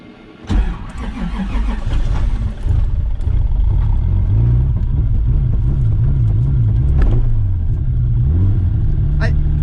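A 2JZ-swapped Nissan 240SX cranks and fires, then idles roughly and revs with the clutch down in gear, a loud, close rumble that wavers up and down as people talk over it.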